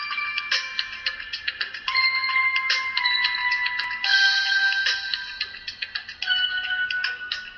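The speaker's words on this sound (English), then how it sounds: "I guess that could be a forest ringtone." A phone ringtone or alert tone called Forest plays alone, a bright melodic run of chiming and plucked notes with a sustained shimmering swell partway through, loud and near.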